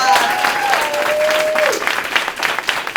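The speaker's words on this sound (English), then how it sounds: "give the class officers a huge round of" An audience at a Palatka High School Jobs for Graduates induction ceremony applauds the class officers with loud, continuous, dense clapping. A voice trails off at the start and then the clapping carries on alone.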